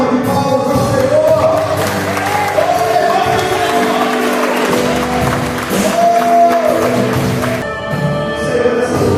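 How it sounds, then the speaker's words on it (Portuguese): A church congregation claps and cheers after a sermon, sustained applause with whoops and raised voices over a tonal musical backdrop, loud and filling the room throughout. "Dê uma salva de palmas ao Senhor."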